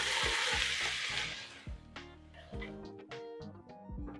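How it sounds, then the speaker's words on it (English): A bagged mixed vegetable stir fry, 850 grams with peppers, dumped into a hot pan, bursting into a loud hiss that fades over about two seconds, followed by scattered clatters and softer sizzling bursts. "Now we're gonna go in with our mixed veggie stir fry"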